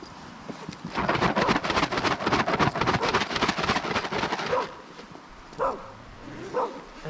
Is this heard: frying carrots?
no